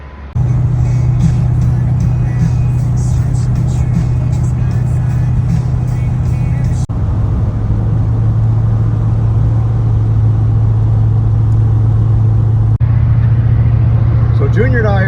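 Steady engine drone and road rumble from a car cruising on a highway during a long road trip from Canada to Atlanta, loud and continuous throughout with faint interior noise.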